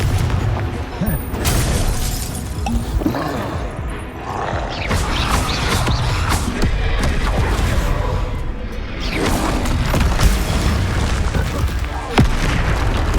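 The Confringo explosive spell in Hogwarts Legacy sets off loud, continuous booms and bursts, layered with whooshes and spell-casting voices through a dense, chaotic battle.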